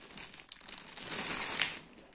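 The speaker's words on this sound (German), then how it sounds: "Oh, da habe ich die Tüte auf." Plastic bag crinkling and tearing open while a boxed Assassin's Creed Mirage figure of Basim is unpacked, a brief close rustle that swells to a louder crackle near the end, with no talk over it.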